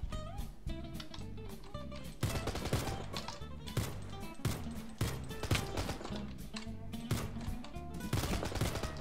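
Repeated rounds of gunfire from Mr. Crayfish's Gun Mod in Minecraft crack out loudly in quick bursts and rapid volleys, with sharp shots piling up across the whole stretch.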